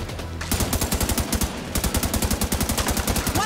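Automatic gunfire in the video game The Division 2, a loud, evenly spaced stream of rapid shots that stops briefly partway through, then resumes at the same steady rhythm until the end.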